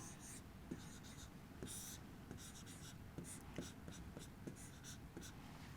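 A pen scratches out a matrix by hand on paper in a quiet room, a faint continuous scribbling with small irregular strokes and taps, heard close but soft.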